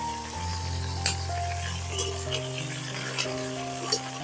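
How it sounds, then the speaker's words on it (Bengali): Tiger prawns frying in hot white oil, a continuous sizzle with a steady hum and a few light metallic clinks, close and fairly quiet, no talking. "তেলটা গরম হয়ে গেছে এবার আমি এর মধ্যে চিংড়ি মাছগুলোকে ভেজে নেব"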